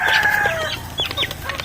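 A rooster crows loudly and close, followed by scattered clucking from chickens nearby.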